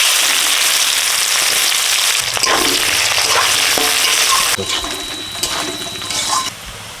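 Chopped onion and five-spice sizzle loudly in a hot pan, a steady bright frying hiss throughout with occasional stirring clatter, while a voice talks faintly over it.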